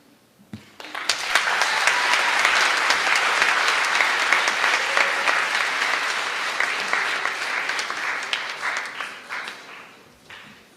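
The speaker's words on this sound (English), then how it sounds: "get one more round of applause" An audience applauds after a poetry recitation at a Poetry Out Loud event, breaking into dense, sustained clapping that holds steady for several seconds and then gradually thins and fades out.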